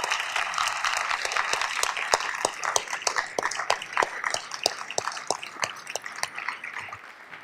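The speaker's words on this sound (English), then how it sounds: "If you would all give them a round of applause for being a part of the process." Legislators in the South Dakota House of Representatives chamber applaud a visiting homeschool group, crisp individual claps that are fairly close, dense at first and growing sparser toward the end.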